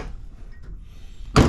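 A Mazda Miata door fitted with solid door bushings swings shut in one loud, close, solid thunk after a quiet moment of low rumbling background.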